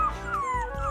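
Small dog in the mobile game Save the Dog whimpering: a thin, sliding high whine held for most of the moment over a steady low game background, fairly loud and close.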